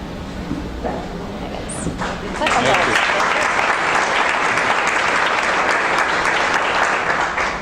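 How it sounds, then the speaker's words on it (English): Applause from the crowd at a leadership network awards dinner, starting faintly beneath a murmur of voices and then swelling into steady, loud clapping that carries on to the end. "I led that applause to get it going for you when you came up."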